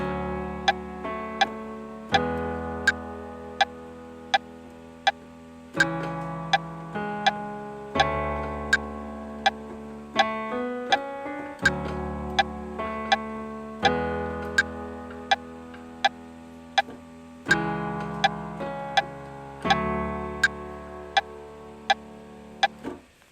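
Steady metronome clicks tick at an even pace over two-handed piano playing of a song, the sharp beats cutting clearly through sustained chords.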